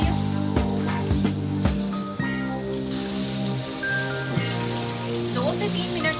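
Chicken fries in a pan over a medium flame with a steady, rain-like sizzle and crackle, close and even, while a tonal hum lies faintly underneath.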